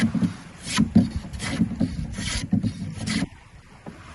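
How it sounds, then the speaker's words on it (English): Hand plane shaving wood outdoors, rhythmic rasping strokes, about six in quick succession, close and fairly loud, then a quieter pause. "I love hand planing."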